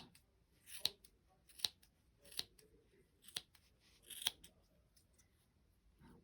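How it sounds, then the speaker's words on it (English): Scissors snip a crochet yarn tassel in five crisp, separate cuts spaced roughly evenly, close and fairly faint, with quiet background and no talking. "Trim up that tassel."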